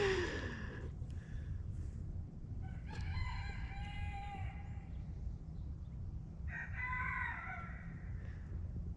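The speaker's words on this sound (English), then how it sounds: "now the roosters are responding to me" Several roosters crow in turn, a few drawn-out cock-a-doodle-doo calls at moderate distance over a steady low background hum, with no talk.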